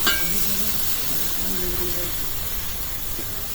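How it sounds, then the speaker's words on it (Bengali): Dry spice masala frying in a pan gives a steady, close hiss and sizzle with faint stirring scrapes throughout, no voices. "মশলাটা একদম শুকনো শুকনো করে কষাই দিলাম"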